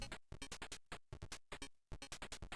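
Faint, choppy electronic music from the Lucasfilm game Ballblazer while the player has the ball, made of rapid staccato noise bursts in a steady, jerky rhythm.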